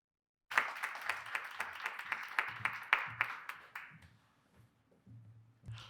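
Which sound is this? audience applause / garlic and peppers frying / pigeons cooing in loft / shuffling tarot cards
audience applause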